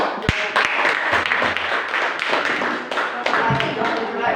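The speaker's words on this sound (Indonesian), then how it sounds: "Nah, tepuk tangan untuk kelompok terakhir." An audience in a classroom session claps for the final group, giving scattered, close hand claps over a few seconds while voices carry on beneath them.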